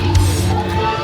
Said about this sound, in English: Listen to this crowd. They are going bananas.